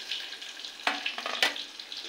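Onion, grated coconut and green chili frying in hot oil in a pan, a steady close sizzle with a few sharper scrapes and spatters partway through, no voices.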